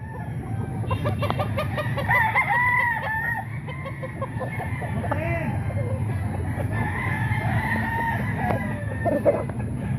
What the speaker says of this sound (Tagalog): Ayan, ang gaganda ng manok na Bostoni mga boss.